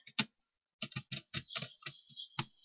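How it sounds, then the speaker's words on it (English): Clicky laptop keys tapped in a quick, uneven burst of about a dozen strokes, close and fairly quiet, with no talking. "I also do apologise for the noise of my keyboard."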